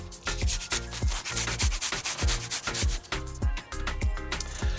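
Four garlic cloves rubbed over a grater for a barbecue marinade, giving a steady, close scraping rasp in quick repeated strokes, with music playing underneath and no talk.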